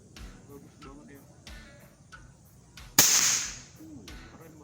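A single sharp crack from a PCP Neo GNT Titanium v.2 air rifle rings out near and loud, fading quickly, with quiet background sounds before it.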